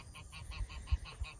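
Geese honk in alarm in a garden, over and over in a quick, regular rhythm, loud and nearby, sounding agitated.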